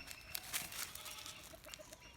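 Faint clucking from chickens at a distance, scattered soft calls over quiet outdoor background.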